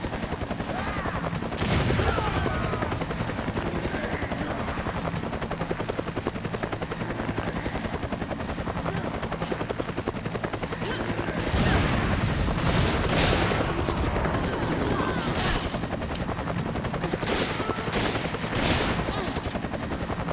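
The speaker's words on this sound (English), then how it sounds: "Gunfire." Bursts of rapid gunfire in Resident Evil 5 crack over a constant helicopter-like rotor drone, with several sharp volleys clustered toward the end.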